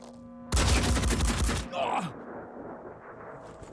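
A sharp burst of rapid gunfire from the video game Blood and Titanium rattles for about a second, loud and dense, then gives way to a lower rumbling tail and quieter background game sounds.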